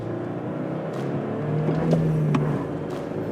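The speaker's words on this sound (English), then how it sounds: "Quick little acceleration test again, second gear." A Toyota Tacoma TRD Sport with an 8-speed automatic accelerates hard in second gear, its engine note rising steadily and growing louder over a few seconds with a faint whine on top.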